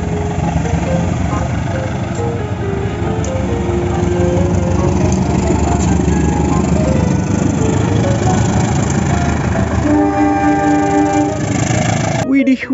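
A toy CC201 locomotive rumbles and drones continuously, with a rising electronic horn-like tone near the end, loud and close, while a voice talks over it.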